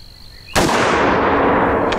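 A single sharp rifle shot from a Smith & Wesson M&P 10 Sport firing 150 grain rounds, loud and close, cracking suddenly after quiet and leaving a long broadband echo that decays slowly.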